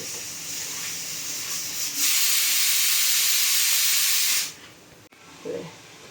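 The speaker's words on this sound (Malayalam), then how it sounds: "വെള്ളമൊക്കെ തിളച്ചു തുടങ്ങി" A loud, steady hiss of steam from boiling water for making wheat puttu rises for a few seconds, then cuts off, leaving quieter room noise and a small clink.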